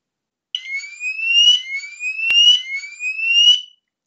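A Homematic IP indoor alarm siren sounds during a test, sweeping upward in pitch in repeated rising tones over about three seconds, loud and close with no talk.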